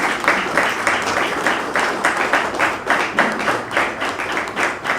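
A crowd applauds Haitian armed forces members, steady dense clapping at close range with rhythmic swells, a few voices mixed faintly into it.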